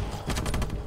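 Light machine gun fired from the hip in the video game Ravenfield, a rapid burst of about six close, loud shots in quick even rhythm.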